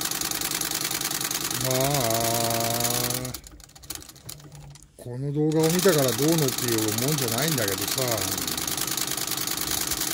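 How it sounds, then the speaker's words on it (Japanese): A sewing machine runs with a steady motor whir under a person chatting, fading out briefly in the middle before the talk continues over it. "ミシンがねすこぶる調子いいんですよ今。"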